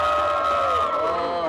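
A large crowd of high school students cheers loudly at a school event, a dense sustained roar of shouts and whoops with no pause.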